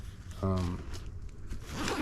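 A quick, rasping zip as the zipper on an Aldi Torque bike bag is pulled once, short and close, followed by quieter handling rustle.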